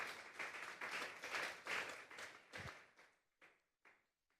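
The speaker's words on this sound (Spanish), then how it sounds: "Vamos a darle un fuerte aplauso pues al Señor" A church congregation at a Sunday service claps for the Lord, a faint burst of applause that fades into a few separate, spaced claps.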